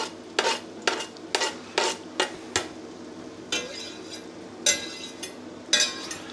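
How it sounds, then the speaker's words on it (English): Chopped onion and finely hand-chopped garlic being stirred in a pan over medium heat, with a series of sharp utensil scrapes and clinks against the pan over a soft background sizzle, close by and without talk. "we're going to let that give it a nice stir around. on a medium sort of heat, because you don't want your garlic to burn up"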